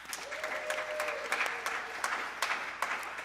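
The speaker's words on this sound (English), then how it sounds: "give yourselves a round of applause" A church congregation at a Sunday service applauds itself, a moderate round of clapping with distinct individual claps, while a brief tonal ring sounds faintly beneath.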